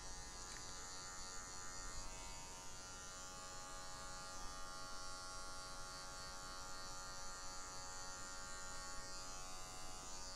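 Electric hair clippers buzz steadily while cutting a square fade haircut. The motor hum runs continuously and evenly for about ten seconds, close and clear, with no speech.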